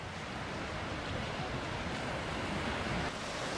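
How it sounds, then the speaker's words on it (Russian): Fast, turbulent river water swollen by mountain rains rushes past in a steady, broadband roar, loud and unbroken, with some wind buffeting the microphone and no voices. "В горах видно дожди были, вода бурно идет."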